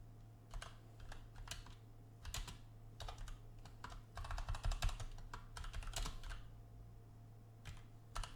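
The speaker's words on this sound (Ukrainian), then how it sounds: "Надрукуємо речення." Typing on a computer keyboard: quiet, close key taps come in irregular bursts, with a denser run of rapid clicks in the middle and pauses between words, over a low steady hum.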